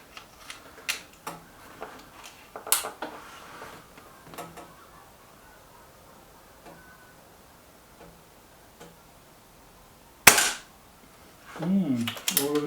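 BSA R12 SLX air rifle firing pellets, several sharp isolated cracks spaced apart with quiet gaps and a loud shot near the end, followed by brief handling noise.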